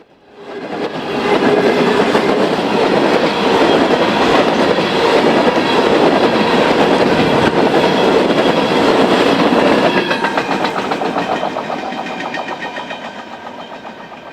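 A coal train rolls past, heading back to the West Virginia coalfields to reload, with steady loud wheel rumble and clickety-clack of cars for about ten seconds before it begins to fade into the distance.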